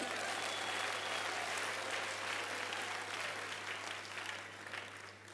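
A church congregation claps in praise during a service, a sustained wash of many hands that stays steady and then gradually thins, heard from a distance over a low steady hum.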